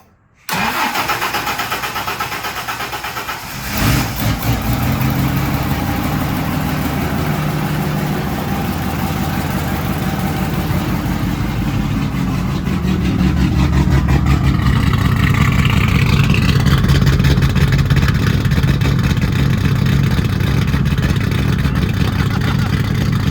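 A 1966 Ford Mustang with a 250 turbocharged inline six cranks and catches, then settles into a loud, lumpy idle that swells into rising revs, heard up close.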